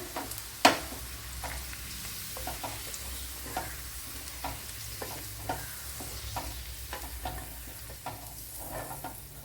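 Garlic sautéing in a pan for a quail egg dish, a soft steady sizzle beneath repeated scraping stirs and one sharp clack near the start, close but fairly quiet, no speech.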